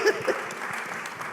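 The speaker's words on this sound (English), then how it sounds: "can we give a round of applause for these lovely individuals here?" A brief burst of steady audience applause for a panel at a hospitality industry discussion, moderately loud, with a voice briefly audible over the clapping.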